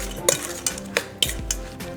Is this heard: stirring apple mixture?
yes